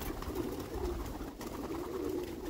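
Domestic racing pigeons cooing in a loft, a soft continuous low burbling that runs steadily throughout, close and moderately loud, with no speech.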